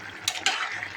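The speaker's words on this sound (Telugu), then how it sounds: "ఒకసారి కలుపుదాం" A spoon stirs bottle gourd curry in a cooking pot, giving two quick scraping clinks against the metal over a soft, steady simmer.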